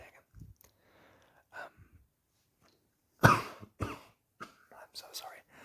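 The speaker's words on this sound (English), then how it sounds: "I hope these coughs aren't very loud." Several soft coughs and throat clearings in a quiet whispered ASMR setting, close to the microphone, with a louder cough burst in the middle and faint whispering between them.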